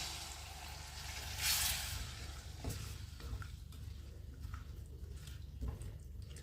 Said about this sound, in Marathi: हे शिंपल्या उकळल्याचं जे पाणी होतं ते आपण गाळून घेतलेलं आहे गाळणीने ते आपण थोडं ह्याच्यात ऍड करणार